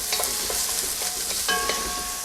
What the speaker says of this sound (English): give that a bit of a stir up